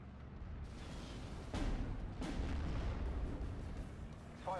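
Artillery firing in the World War II strategy game Steel Division Normandy 44: a continuous rumbling bed of battle noise that jumps as heavy booms land midway and keeps thundering, with no speech heard.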